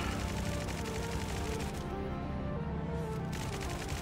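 Rapid sustained gunfire in the Roblox Jailbreak video game aimed at a robot Kraken, a dense continuous rattle of shots at steady loudness throughout, with no voices.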